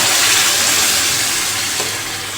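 Water is poured into a sizzling fenugreek seed curry in a pan, making a loud, steady hiss and rush close by that fades slightly toward the end.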